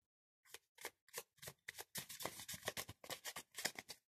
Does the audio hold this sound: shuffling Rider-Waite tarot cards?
yes